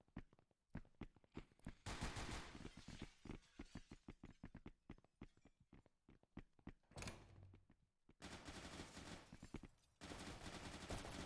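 Rapid bursts of video game gunfire in a multiplayer shooter map, repeated volleys of loud close shots separated by brief pauses, with no talking.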